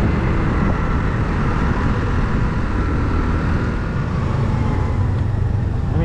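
A Honda Navi mini scooter's small single-cylinder engine held at full throttle, a steady loud buzzing drone with wind rush, continuous and close throughout.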